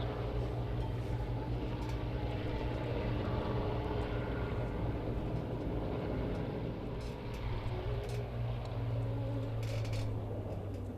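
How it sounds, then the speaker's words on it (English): A Mirage 2000 fighter jet performs a flying display, its steady engine roar sustained and fairly distant throughout, swelling slightly and then easing without any breaks. "And you see how manoeuvrable that aircraft is. Fighter-like performance."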